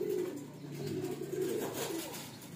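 Pigeons coo steadily and close by in a midday outdoor setting, where a flock of released pet birds is kept, the low throaty calls overlapping without a break.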